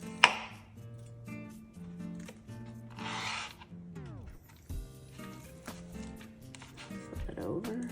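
A knife works through the leg and thigh joint of a spatchcocked chicken. A few crisp cuts and knocks against a board sound close up, and a voice speaks between them.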